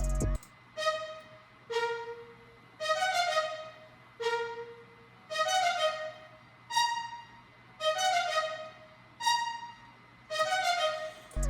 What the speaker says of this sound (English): Next, we got this spiccato string from Expand,